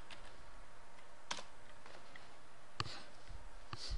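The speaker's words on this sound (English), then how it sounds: "I don't normally type all the words out in full." Typing on a computer keyboard in an Ubuntu Linux terminal, sparse clicks and a few louder keystrokes over a faint steady hum, quiet and close.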